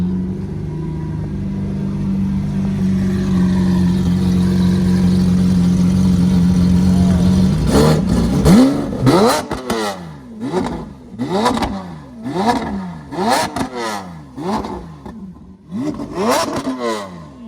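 A 2013 or 2014 Lamborghini Aventador idles with a steady rumble, then blips its throttle in a rapid series of loud, sharp revs with quick drops between them, close and alone.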